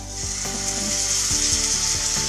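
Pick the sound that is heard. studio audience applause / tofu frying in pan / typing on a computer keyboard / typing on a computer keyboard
tofu frying in pan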